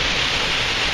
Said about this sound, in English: Getting blasted by the waterfall.